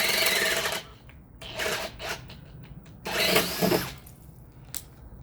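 A power drill with a right-angle attachment bores into material with a large bit. Its loud grinding whine comes in several separate bursts with gaps between them. There is no speech.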